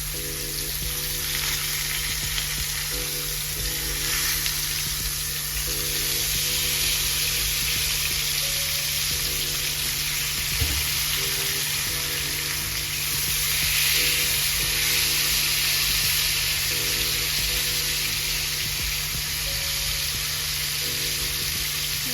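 Steaks sear in a pan on medium-high heat, giving a loud, steady sizzle that swells and eases slightly over time, with a repeating low tonal pattern running faintly underneath.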